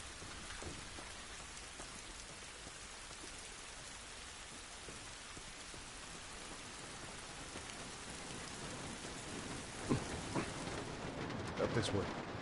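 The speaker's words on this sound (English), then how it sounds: "This rain ain't gonna do us any good." Heavy rain pours in The Last of Us, a dense continuous hiss with scattered drips and a low rumble of thunder, louder spatters near the end.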